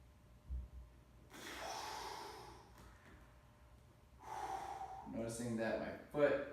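Slow deep inhales and long exhales during a hip mobility exercise, several audible breath sounds with brief gasps and snorts, close to the listener, with faint voice-like sounds.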